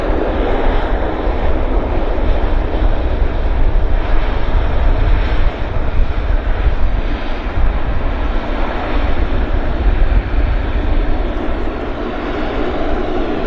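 A Q400 turboprop airliner approaching Vancouver airport makes a loud, steady broadband engine and propeller roar that holds constant throughout, heard close with no talking.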